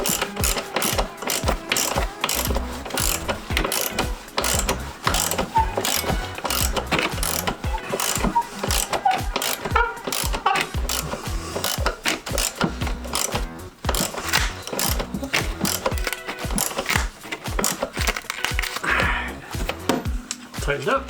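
Ratchet wrench tightening the engine mount bolts on a Jeep Cherokee XJ, heard as rapid metallic clicking in repeated strokes across about twenty seconds, close and fairly loud.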